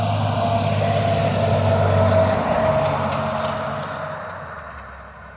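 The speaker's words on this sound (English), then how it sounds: "There's a truck." A truck rumbles past outdoors, with a low engine drone that is loud at first and then fades steadily as it moves away.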